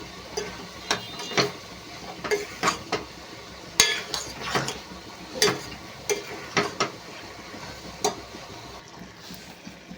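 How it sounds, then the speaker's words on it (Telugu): Onions frying in a pan with salt for a Telugu brinjal and prawn dish, heard as sharp crackling pops and sizzle bursts at an irregular rhythm over a low, steady background hiss. "ఇప్పుడైతే ఉల్లిపాయలు వేగుతున్నాయి కదా"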